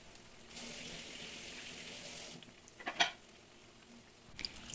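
Chicken breasts go into a pan with a little oil and start frying, giving a soft, steady sizzle with a brief louder hiss and clatter partway through as they settle, quiet and close with no talking.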